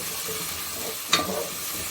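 Potatoes dropped into a frying spice paste in a pan: a steady oil sizzle, then a brief louder splash and stir as they go in, with the sizzle carrying on afterward.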